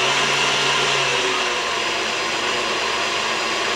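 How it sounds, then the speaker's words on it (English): An electric hand mixer whips cream for frosting a banana cake, producing a loud, steady, close whirring drone that holds throughout with a slight shift in tone partway. "Start off maybe a little slow, and as it starts to thicken up, you can make your mixer go faster."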